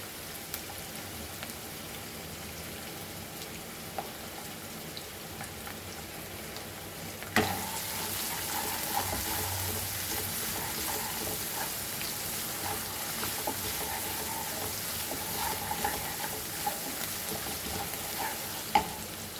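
About a teaspoon of ginger garlic paste hits hot oil in a pan for mutton bheja bhurji fry, giving a steady, dense sizzle with stirring scrapes that jumps louder partway through and keeps frying on without speech.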